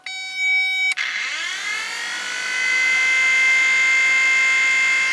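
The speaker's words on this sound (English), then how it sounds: "So that sounds like a weak motor" A weak fan blower motor in a school bus conversion switches on at 12 volts with a click, then settles into a steady, thin electric whine that slowly builds and holds.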